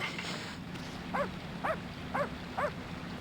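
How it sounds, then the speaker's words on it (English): Dog barks in the Okami video game, four short evenly spaced yips over a low game backdrop of ambient sound. "I never knew they had different barks."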